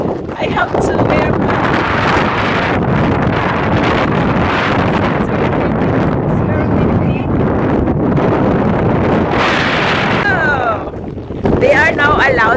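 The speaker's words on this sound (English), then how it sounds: "Oh my god, it's very windy here." Strong wind pounds the microphone at a ship embarkation point, a loud steady rumbling roar throughout, with a voice speaking faintly beneath it.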